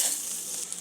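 Veg pulao ingredients are stirred gently in a pan over low heat, giving a soft steady sizzle with faint scraping, brief and close.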